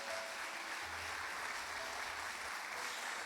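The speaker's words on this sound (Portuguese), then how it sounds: "Aplaude a Jesus bem forte." Sustained applause from a church congregation during a sermon, a steady dense wash of many hands clapping that fills the whole stretch evenly and continuously, with no talk over it.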